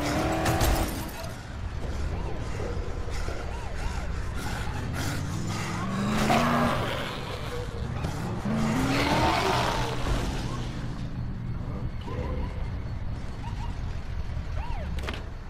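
A car in Dead Island skids and screeches while ploughing through zombies, with repeated tire squeals, engine revving and thudding impacts over a busy game background.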